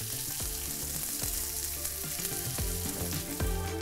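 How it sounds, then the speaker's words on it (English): Onion with salt sizzles in a pot for a chicken and rice one-pot, a steady close frying hiss with soft stirring movements underneath. "I'm gonna add the onion now."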